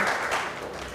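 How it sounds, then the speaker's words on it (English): Applause from a school quiz-show audience in Uganda, heard as a brief burst of steady clapping throughout. "Give a huge round of applause."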